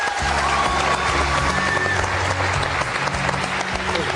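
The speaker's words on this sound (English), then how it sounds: "A huge round of applause, ladies and gentlemen, for Mr. Eamon Gilmore." A studio audience on an Irish TV panel show gives sustained, dense applause for an arriving guest, steady and fairly loud throughout with a low hum beneath.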